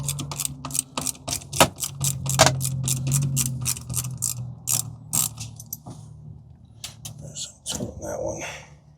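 A ratchet wrench clicks in quick bursts while working bolts loose on a Club Car Precedent golf cart during MCOR replacement, close and sharp, with someone talking intermittently over the mechanical ratcheting.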